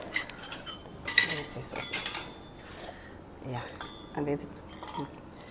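Metal containers of a two-part South Indian filter coffee maker are handled in a showroom, giving repeated bright clinks and clanks of metal on metal at close range, scattered irregularly over a soft room background with no talking.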